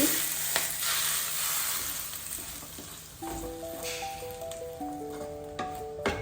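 Mustard seeds, dried chilies and curry leaves fry in coconut oil with a loud sizzling hiss and sharp popping crackles. The sizzle settles a little, then a short melodic tone sequence plays over it.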